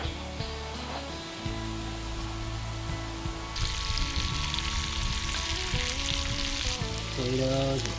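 Potatoes fry with onion and garlic in a pan over coals at a lakeside campsite, a steady sizzle that swells louder midway through, alongside a low background hum and no talking.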